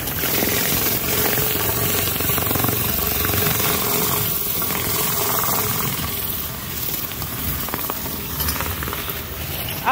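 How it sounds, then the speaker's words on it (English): A commercial pressure washer drives a 21-inch surface cleaner on castors, giving a loud, steady broadband hiss and roar that runs unbroken and close throughout, with no talk. "We have a commercial pressure washer."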